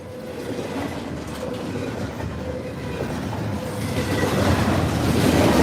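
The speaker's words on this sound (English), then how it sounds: "We got an intermodal, if you couldn't tell already." An intermodal freight train passing on the Waukesha subdivision, a close, continuous rumble with rhythmic clatter of wheels on rail that grows gradually louder and brighter toward the end.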